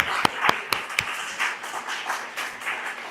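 A church congregation clapping during a worship service, with a few sharp, distinct claps followed by a softer, scattered round of applause at moderate distance.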